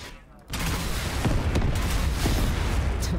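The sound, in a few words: gunfire in a Fortnite video game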